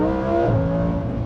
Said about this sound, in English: we've got all-wheel drive, and we've got a naturally aspirated V10 engine,